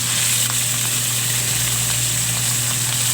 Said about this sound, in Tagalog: Iprito na natin kaagad. yung ating cooking oil. Ilagay na natin yung ating isda.